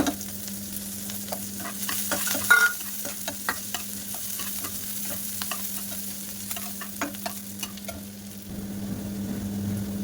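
Chopped onion, garlic and green chili fry in hot oil for an aloo naan filling, a steady close sizzle broken by scraping stirs and small clicks of a spatula against the pan.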